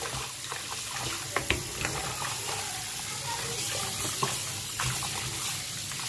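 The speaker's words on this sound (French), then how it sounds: "Ça, c'est de l'eau chaude." Hot water running from a kitchen tap while preparing braised oven chicken, a steady hiss and splatter that is close and continuous, with small clinks and knocks scattered through it.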